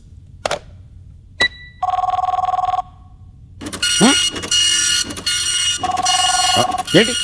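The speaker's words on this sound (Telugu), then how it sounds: "అది ఫోన్ కాదు, ఫ్యాక్స్." A fax machine rings in an office in a comedy scene, sharp electronic trills and a sustained tone between clicks, then loud buzzy noise under overlapping talk.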